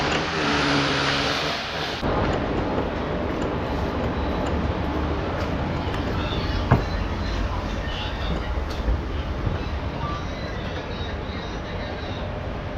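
A train rumbles at Subrahmanya Road railway station, a loud, steady low roar of wheels and carriages that follows a brief lighter passage at the start and continues throughout, with a single clank midway.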